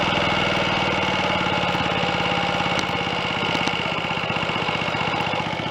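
A Royal Enfield 250 GT motorcycle being recommissioned, its tight single-cylinder engine idling close by with a steady rapid knocking putter and faint mechanical ticks.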